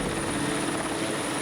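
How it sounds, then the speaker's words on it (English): Helicopter flying over a mountain wildfire, a loud close continuous rotor thrum with a steady whine, heard alone in a short burst. "Helicopters are used to transport the ground troops to this inaccessible battlefield."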